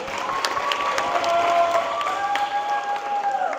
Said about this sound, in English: I now need us to give 4, 5 to 7 claps for Monique and Shannon